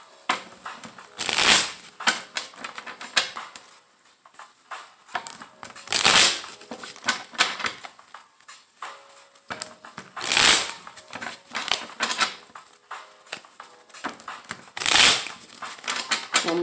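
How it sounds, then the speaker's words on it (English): Bursts of crisp tarot card shuffling recur every few seconds, each a loud riffling flurry, with softer handling and tapping of cards in between. "One more shuffle, Pisces."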